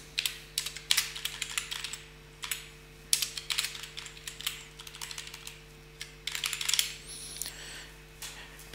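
Fingers tap out a template name on a computer keyboard, quiet and close, with irregular clusters of light key clicks separated by short pauses and a faint steady hum behind.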